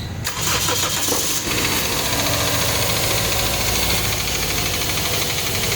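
A 2007 Toyota Altis 1.6 engine with a 3ZZ motor, starved of oil, cranks and then runs with a steady, dense mechanical clatter, close and loud, continuous throughout with no talk.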